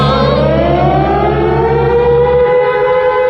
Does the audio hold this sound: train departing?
no